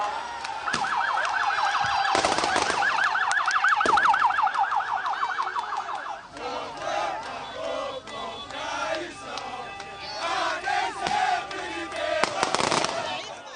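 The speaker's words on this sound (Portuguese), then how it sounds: "Foi recebido por bombeiros e moradores que soltaram até fogos de artifício." Residents gathered outside a prison in Bangu, Rio de Janeiro, cheer and shout as fireworks pop and crackle, with a loud siren-like whistling wail early on and scattered bangs and crowd noise throughout.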